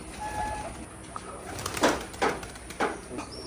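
Giribaz pigeons cooing at a pigeon farm, a few soft, rounded coos spaced out over a steady background hiss, moderately close but not loud.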